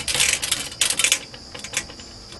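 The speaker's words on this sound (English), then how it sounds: "you got to take a file and you got to work around it until you get it to break loose" A metal file rasping around a thin copper refrigeration capillary tube to score it: quick, bright scraping strokes in short bursts, close and fairly loud, fading into lighter strokes toward the end.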